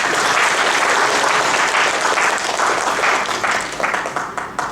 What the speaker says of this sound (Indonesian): Tepuk tangan dong buat ibu.